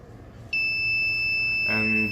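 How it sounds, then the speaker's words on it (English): A smart attendance door system's buzzer switches on and holds a steady, piercing electronic tone, loud and close, continuing to the end over faint background noise. "And the buzzer turns on, and the green light turns on also, indicating that the door is open"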